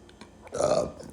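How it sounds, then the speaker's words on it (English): A single drawn-out burp, loud and close, lasting about half a second after a few faint clicks. "Burp for confirmation."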